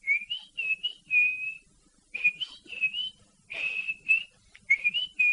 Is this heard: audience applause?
no